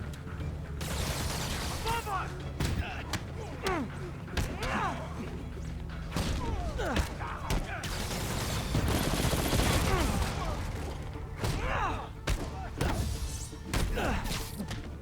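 Combat in a Spider-Man video game: rapid punches, kicks and crashing impacts against enemies come in dense bursts, with a voice talking over the fight.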